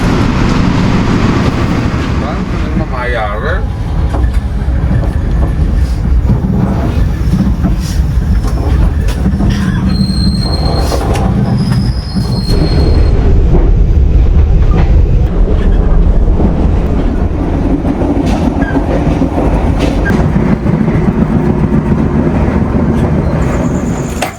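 Passenger train on a journey from Bandung in Indonesia, heard from inside: a loud continuous rumble of wheels on rails with a few brief high squeals in the middle, steady throughout.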